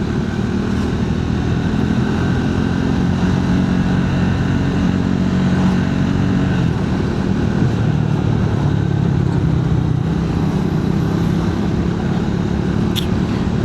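A Triumph Speed 400 motorcycle rides along typical Indian roads, its engine a steady close drone mixed with wind rush and road noise, with no clear changes in pace.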